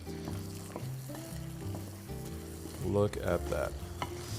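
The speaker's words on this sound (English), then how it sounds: "The sound of a good sizzle." Food sautéing in a hot pan sizzles steadily and close, with a louder burst of spattering as it is stirred partway through; a voice speaks briefly over it.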